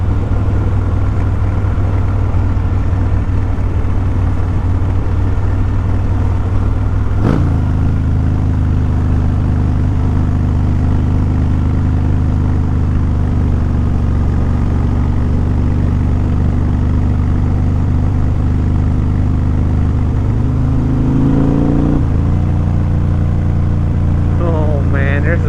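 Vehicle engine dropping to a lower gear on a descending road, a loud steady drone that shifts pitch abruptly partway, then settles and rises again, with a person talking over it.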